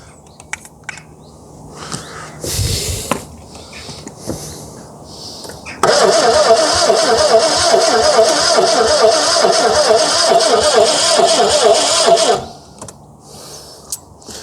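Starter motor cranks an old British car engine with choke applied, a loud steady churning run of about six seconds after a brief earlier burst, ending without the engine catching.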